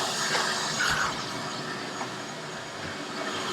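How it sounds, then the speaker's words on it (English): A vacuum sucks up water from a room floor, a steady hissing, gurgling suction noise of moderate loudness with a brief higher whine near the start and no talking. "That's the sound of vacuuming up water that's in my room"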